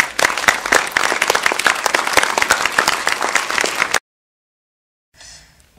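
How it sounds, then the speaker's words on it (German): Audience applause for Heike Makatsch at a literary reading in Berlin's Kulturbrauerei, a dense burst of many hands clapping for about four seconds that cuts off abruptly, followed by silence and then a faint murmur. "deshalb jetzt ein riesengroßer Applaus bitte für Heike Makatsch"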